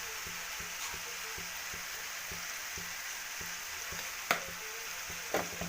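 Tomatoes fry with salt in a pan, giving a constant soft sizzle. Faint rhythmic stirring taps run through it, and a couple of sharper clinks come near the end.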